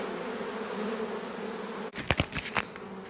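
Honey bees buzz steadily around a hive, a continuous close drone, and then several sharper, louder buzzes pass near in quick succession toward the end.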